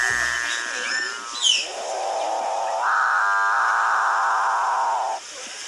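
A capuchin bird of the South American rainforest gives a deep, eerie, electronic-sounding call: a sustained low droning moan that swells and holds for several seconds, rising in pitch partway through, heard alone and fairly close.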